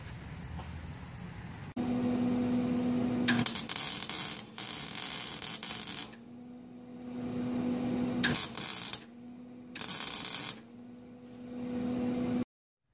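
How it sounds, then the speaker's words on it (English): Welding the shifter of a 1967 Wheel Horse 857 garden tractor, several bursts of harsh crackling buzz lasting a second or two each, separated by quieter gaps with a low electrical hum. "and then weld it all around."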